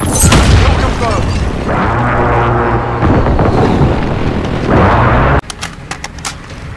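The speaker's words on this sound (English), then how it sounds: "friendly precision airstrike" Precision airstrike explosions in the multiplayer shooter Call of Duty Modern Warfare, loud booming blasts that roll and rumble over several seconds with radio-style voice chatter over them, ending in an abrupt cut to quieter sharp cracks.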